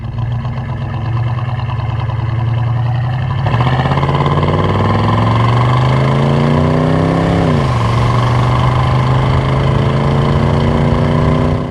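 A 1968 Oldsmobile 442 with its numbers-matching 400 V8 runs loud and steady, then climbs through a rising rev, dips briefly and settles back to a higher, even drone.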